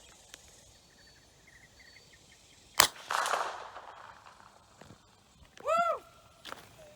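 A single sharp, loud crack from a 3D printed .22 AR-15 rifle fired outdoors, followed by a short ringing tail and quiet ambience, then a brief high voiced whoop.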